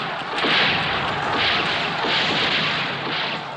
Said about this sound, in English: Guns. They're not Chinese.